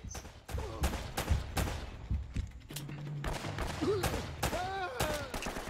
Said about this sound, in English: You always seem to be getting shot at.